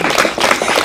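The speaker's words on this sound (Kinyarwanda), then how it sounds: "bagabo tubakomera amashyi" A group in Rwanda applauds working men with a short, loud burst of clapping. Many hands sound at once, close and steady.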